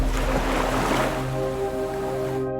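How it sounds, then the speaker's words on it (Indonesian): Waves crash against a seashore in a continuous dense roar, loudest at the start and easing slightly, with a faint steady tonal hum running beneath the surf. "Salah satu penyebab utamanya adalah suara ombak yang menghantam pantai."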